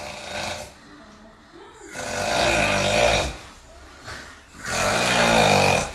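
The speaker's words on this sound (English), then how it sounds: "Snoring." A man snores loudly in a played recording, giving three long, rough, rattling breaths with quiet gaps between them, close and harsh.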